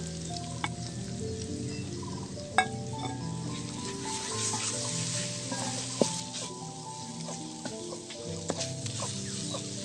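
Onion, garlic, dried chili and chapa shutki (fermented dried fish) paste frying for chapa shutki bhorta, with a continuous close sizzle and a spatula scraping and knocking against the pan in irregular bursts.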